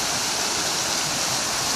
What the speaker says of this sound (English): I couldn't resist the urge of filming this unique water fountain at the Beijing Airport.